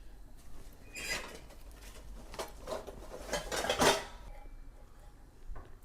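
Metal plates and cups clink and clatter as they are handled, a series of close, bright knocks building to a louder rattle before settling.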